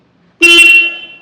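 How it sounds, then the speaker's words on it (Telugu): A single loud, close horn blast from a Royal Enfield Meteor 350 motorcycle sounds abruptly, holding a steady buzzing tone for under a second before cutting off. "హారన్"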